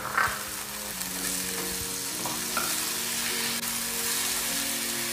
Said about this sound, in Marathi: इथे मी 3 टोमॅटो बारीक चिरून घेतलेले आहेत, ते याच्यामध्ये टाकूयात आपण. आणि हे छानपैकी आपण तळून घेऊया.